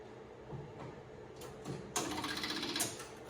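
An electric fuel pump on a Miller D550 generator switches on with the ignition, ticking and whirring quietly in short irregular bursts that grow busier and louder toward the end.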